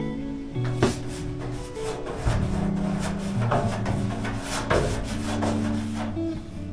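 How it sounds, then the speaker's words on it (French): A small lacquer roller spreads thick paint across a metal table, making soft repeated rolling and rubbing strokes close up, with faint background hum between passes. "j'ai pris un petit rouleau de laquage comme ça ici pour faire une finition bien lisse, bien propre"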